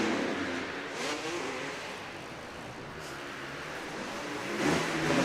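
Two-stroke racing motorcycle at an indoor race, engine heard at a distance revving and fading under crowd and arena ambience, with a louder swell toward the end.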